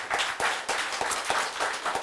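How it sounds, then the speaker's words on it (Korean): An audience at a university seminar on biodefense strategy claps after a talk, a dense, loud, even patter of many hands with a slight pulsing rhythm and no voices. "박수 부탁드립니다."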